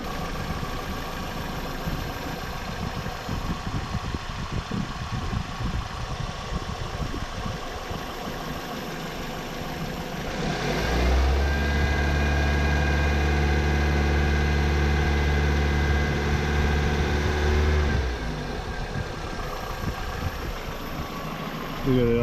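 A 2002 Toyota Corolla with a 1.8L engine, running lean with a P0171 fault, idles close by: a steady low hum throughout that swells into a louder, even drone in the middle before settling back, with a voice talking over it.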